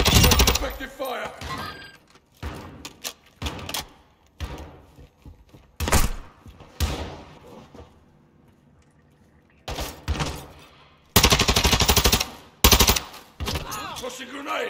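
Gunfire in Call of Duty Warzone 2.0 DMZ comes in loud, close bursts of automatic fire mixed with single sharp shots and mechanical clunks. Quieter gaps fall between the volleys.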